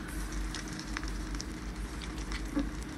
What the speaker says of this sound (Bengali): ছাড়ার পর এমন আর কি বাবলগুলো উঠেছে, কিন্তু আমি একদম মিডিয়াম টু লো আছে এটাকে ভাজতেছি